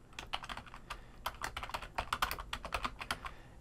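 Quick, irregular clicking of keys on a computer keyboard as a file name is typed, close and fairly quiet, with no speech.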